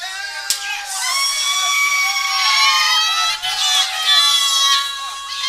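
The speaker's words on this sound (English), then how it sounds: "And more cheering for the World Series, folks." Crowd at a World Series sports event cheering and shouting, a dense high wash of many voices with excited whoops, loud and sustained throughout with a brief sharp clap near the start.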